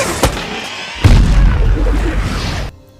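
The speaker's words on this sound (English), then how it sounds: "Tovar and Ballard blow the door to the armory" An armory door in a sci-fi movie is blown open, a small pop followed by a loud booming blast that rumbles on for over a second before cutting off.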